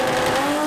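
A drag racing car launches hard off the line at a Japanese drag series street-car round, a loud, dense roar with tyre noise filling the short burst close by.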